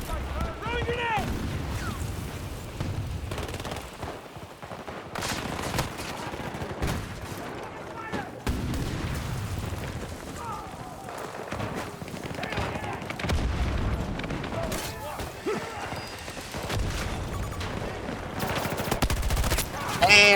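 Gunfire and explosive bursts from a shooter video game after a grenade is thrown, with rapid shots and booms scattered across the stretch, someone talking over the action.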